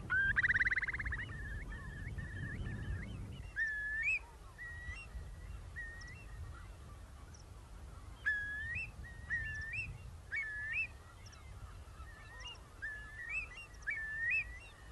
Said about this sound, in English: a curlew, a bird of the moors and marshes, with a bubbling call that captures just the right feeling of freedom,